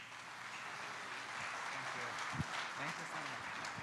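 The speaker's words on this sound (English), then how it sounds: "So another round of applause" Audience at a Rotary Club of Canton mental health conference and expert panel applauds, a steady, fairly faint wash of clapping across the room, with a few nearby claps standing out.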